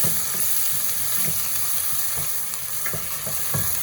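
Green chillies and masala sizzle in a hot pan for squid biryani, with a steady frying hiss and regular scraping strokes of a stirring spoon, close and continuous.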